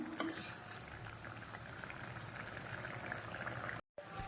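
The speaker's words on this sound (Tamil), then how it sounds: "அதான் குழம்பு வந்து நல்லா கொதிச்சிடுச்சு." A steady bubbling, simmering sound of egg curry boiling in a pan, continuous and close, with a short gap near the end.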